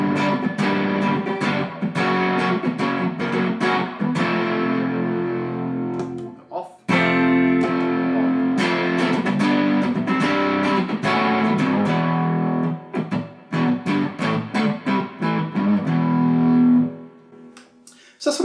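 An electric guitar through a HubCap John Schwifty Pickle Boost pedal into a clean amp plays chords and single-note riffs with a mildly boosted, slightly gritty clean tone, ringing out between strums and fading at the end.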